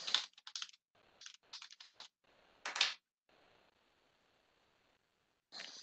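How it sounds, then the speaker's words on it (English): Fingers type on a computer keyboard during an office data-entry task, with bursts of quick clicks separated by short pauses, close and fairly quiet, with no talk over it. "typing in some of this information"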